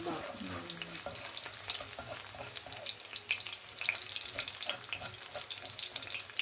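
Chicken toasting in hot oil in a pan for ginataang manok gives a steady, close, crackling sizzle with scattered spattering pops and occasional stirring scrapes throughout.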